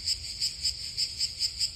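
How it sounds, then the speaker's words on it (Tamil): A swarm of beetles in a tree makes a steady, shrill insect drone that pulses in a regular rhythm, about four beats per second, fairly faint and with no voices. "இந்த வண்டு கூட்டம்தான் சத்தம் போடுது"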